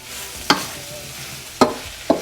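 Beef with spices sizzles quietly in a pan while a utensil scrapes through it in three sharp strokes, two of them close together near the end.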